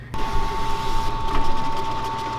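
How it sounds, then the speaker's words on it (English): A vinyl cutter driven by a servo motor cuts heat transfer vinyl. A steady whirring hum starts abruptly and holds at an even pitch with slight fluctuations, close and fairly loud. "as you can hear, this is a servo motor"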